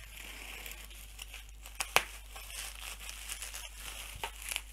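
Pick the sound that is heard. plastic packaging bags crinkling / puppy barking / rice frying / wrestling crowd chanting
plastic packaging bags crinkling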